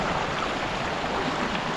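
River water flowing steadily, a close, even broadband rush and babble with no breaks over the short stretch, no voices present.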